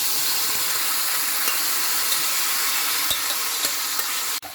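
Beef hits well-browned fried masala in a hot pan, producing a steady, loud sizzle with occasional scrapes and clinks of stirring, ending in a brief clatter.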